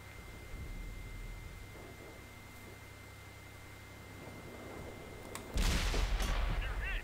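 A Charioteer tank's gun in World of Tanks fires one loud, booming shot that bursts out after a stretch of low engine rumble and tails off in a short, rumbling decay.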